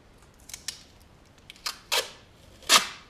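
Adhesive tape peeled off its roll in a handful of short, crackling rips, close by, each pull a bit louder than the last, with the final tear the strongest and no voices.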